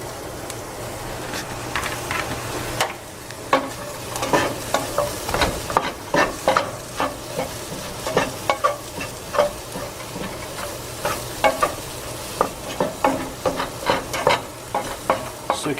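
Mushrooms sizzle and fry in a hot pan while a utensil scrapes and stirs them in a steady run of irregular clacks over a constant hiss.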